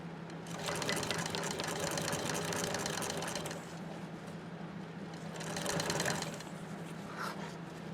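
A sewing machine stitches a leather bucket backpack in two sustained runs of rapid mechanical whirring, pausing briefly in between, moderately close and without talk.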